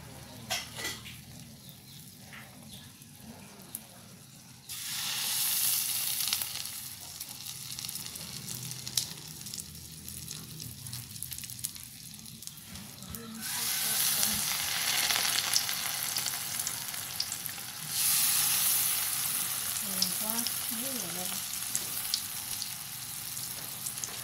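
Steady crackling sizzle of food frying in oil that is too hot, close and continuous, swelling louder in bursts with occasional faint clinks of utensils.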